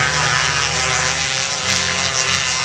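Micro sprint race cars at full throttle on a racing circuit make a loud, continuous engine roar that rises and falls slightly as they pass, with no talk.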